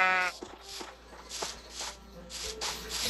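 Sheep bleating in Minecraft, several short game-sound bleats spaced across the moment, moderately loud with faint shuffling between them and no speech.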